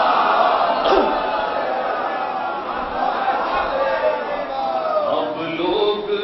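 A crowd at a religious gathering in Mumbai chants the salawat slogan together, many voices rising in a loud, sustained unison call that fills the hall.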